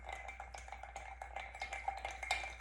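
A bar spoon stirs Campari and sweet vermouth over ice in a mixing glass for a Negroni Sbagliato, giving soft, quiet, steady clinking and swirling close by.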